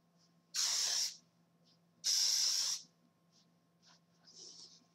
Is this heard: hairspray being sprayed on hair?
yes